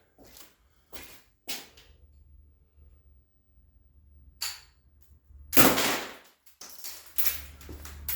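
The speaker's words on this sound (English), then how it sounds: "You hear the shot going everywhere." Umarex HDR68 CO2 airgun firing shot that scatters across a room: sharp snapping shots stand out in a quiet space, followed by a burst of rattling and clattering as the pellets hit and bounce around nearby.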